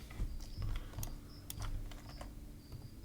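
Computer keyboard keys click rapidly and irregularly while someone models in Blender, with quick taps in a steady flurry over a low background hum and no talking.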